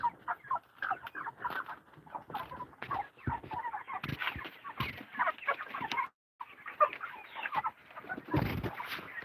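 Several hens cluck and murmur close by in an irregular, busy chatter, with scratching and pecking sounds mixed in.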